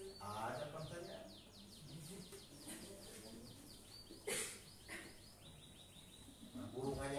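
Small birds chirp in quick repeated tweets, faint and somewhat distant, forming a busy chorus with a sharper call midway, heard behind a quiet room setting.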